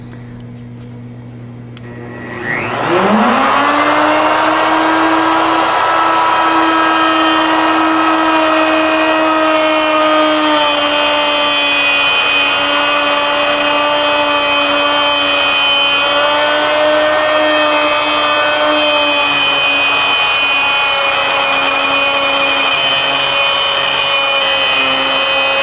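Plunge router cutting wood for a two-start barley twist candlestick holder: a steady, loud, high motor whine that spins up after a brief quiet start and holds constant for over twenty seconds.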